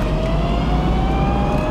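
A blue electric Mini, a homebuilt conversion, picks up speed with a steady whine rising in pitch over a loud rumble of road and tire noise, close and continuous.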